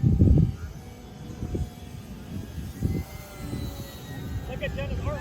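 A Simple Stick RC model airplane flies at FliteFest 2021, its engine a steady drone in the background, with people talking over it.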